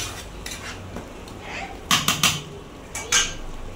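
Metal lid set onto a cooking pot, a few sharp clanks and rattles in quick succession, close and clear against a quiet kitchen background, with no talking.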